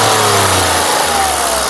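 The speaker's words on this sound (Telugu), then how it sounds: "అలాగే ఇంజన్ యొక్క నాయిస్ కూడా సైలెంట్గా అయితే ఉందండి" A 2016 Volkswagen Polo Highline engine revs close by, a steady, loud mechanical drone that holds for under two seconds with no one talking.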